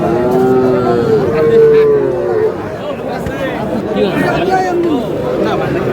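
Cattle at a livestock market in Nawabganj, Dinajpur, where small bulls and heifer calves are traded, let out loud, near drawn-out moos over a constant background of crowd chatter.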